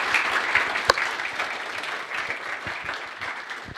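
An audience at a youth technology event claps for invited guests, a steady dense wash of applause with one sharp louder clap near the start, continuing evenly to the end without speech.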